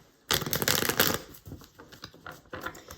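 A deck of tarot cards being shuffled by hand, one burst of quick riffling followed by a few softer card taps and shuffles, close and clear with no talking.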